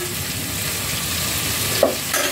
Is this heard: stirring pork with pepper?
yes